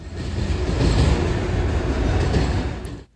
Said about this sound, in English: this BNSF manifest train, also from Richmond